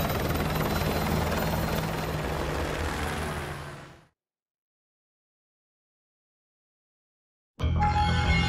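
Helicopter rotor roar from a Modern Warfare Remastered video game scene, steady and loud for about four seconds, cutting to silence, then returning abruptly near the end.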